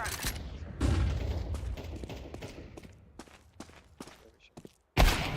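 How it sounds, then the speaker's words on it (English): A flashbang grenade thrown in the Counter-Strike video game, with sharp bursts and thuds amid game gunfire and footsteps, ending in a sudden loud bang after a short silence. "Throwing a flashbang."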